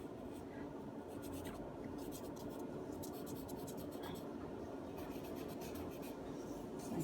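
A pencil scratches across paper while sketching a skeleton, a soft, continuous close scraping with quick stroke bursts throughout, under faint background noise and no talking.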